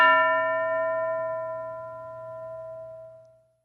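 A single metallic bell strike in a classroom lesson rings out clearly, its clean tone sustaining and slowly fading over several seconds with no talk over it.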